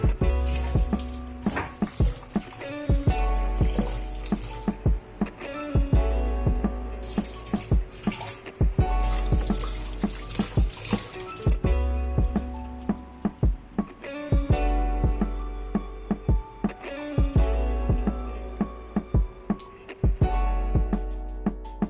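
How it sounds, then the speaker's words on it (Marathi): Tap water runs into a sink while Bombay duck fish are rinsed by hand, a continuous close splashing stream with repeated handling knocks and brief pauses in the flow. "बोंबील आपण स्वच्छ धुवून घेऊया, साफ करून झालेत"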